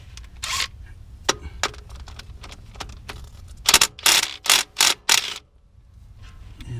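A ratchet loosens the 10 mm drain plug on a Jeep Wrangler transfer case, giving scattered metallic clicks followed by a quick burst of several loud, close ratcheting strokes before quiet.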